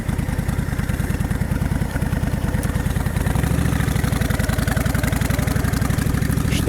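Honda VTX1300 motorcycle engine pulling away from a parking lot in first gear, a steady low throbbing V-twin rumble heard up close and loud throughout, with no talking.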